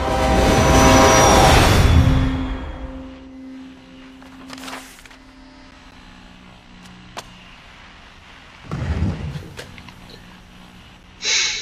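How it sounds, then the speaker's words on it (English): A loud video game train rumbles past for about two seconds, then fades, followed by scattered clanks and a shorter rumbling burst near the end. "Why was there a train?"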